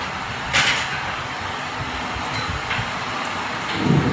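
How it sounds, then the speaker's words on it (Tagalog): Heavy rain pours down outdoors in a steady broadband hiss, with a few brief louder splashes and a low rumble near the end, no voices over it. "Ang lakas ng ulan."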